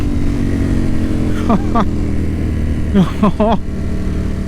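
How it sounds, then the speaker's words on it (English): A motorcycle being ridden, its steady engine drone running throughout at close range, while a person speaks briefly over it. "Such a fun bike."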